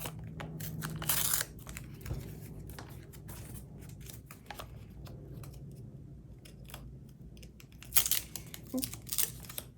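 Paper surprise packets being torn open and handled, with quiet crinkling and rustling, a louder rip near the start, another burst of tearing toward the end, and soft scattered crackles between.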